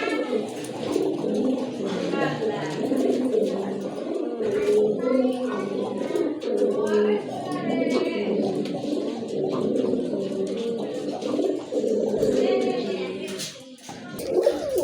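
Indian Bombay white pigeons coo continuously in low, throaty rolls close by, with a voice talking over them at times.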